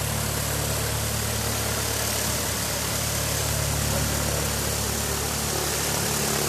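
A light training aircraft engine idles steadily at a regional airport, a loud, continuous broadband drone with a low throbbing hum, heard alone without voices.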